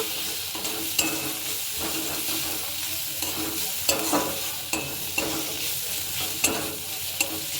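Spices stirred into a frying eggplant and potato mash, a close, steady sizzle marked by repeated rhythmic scrapes and taps of a spoon against the pan.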